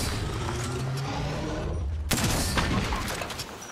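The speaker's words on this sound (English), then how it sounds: "That was a shot" Gunfire in the battle-royale shooter Apex Legends, a sudden loud shot cutting through dense, steady game noise, followed by a burst of ringing crackle and rumble that fades gradually.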